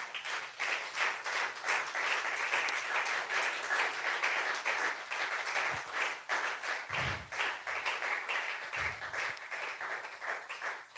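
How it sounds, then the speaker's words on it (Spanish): A church congregation claps steadily and fairly loudly throughout, a dense continuous applause with a few dull thumps mixed in near the end. "Bríndele un aplauso al Rey de Reyes."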